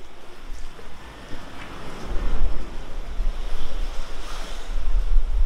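Ocean waves break on a beach in Tulum, Mexico, a steady rumbling surf swelling louder toward the end, with wind buffeting the microphone.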